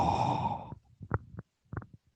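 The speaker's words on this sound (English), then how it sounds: "I was breathing into it." Close breaths huffed straight into a microphone: one long, loud airy exhale, then several short, softer puffs and breaths at close range.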